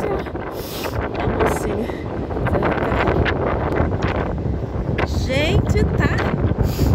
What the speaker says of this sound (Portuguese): Que vento frio, gente do céu.